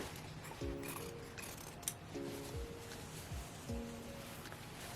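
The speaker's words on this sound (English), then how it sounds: "Let's just cut it all up and see what we can get out of it." Scissors snip through old thrifted shirts up close, with several short cutting strokes in an uneven rhythm and soft fabric rustling between them, quiet and with no talk.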